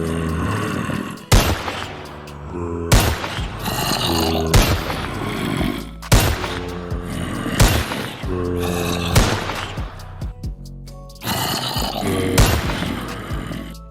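Gunfire from the Timeless and Classics Guns mod in Minecraft Java Edition 1.16.5: loud, sharp shots in repeated bursts, each followed by short gaps, up close with no talk.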